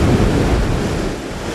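Rough storm surf pounding the beach at Ocean City, with a loud, steady roar of breaking waves and wind buffeting the microphone throughout.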